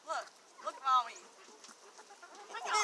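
Farmyard chicken, one hatched in an incubator, clucking in short bursts at close range while a child's and an adult's voices talk over it.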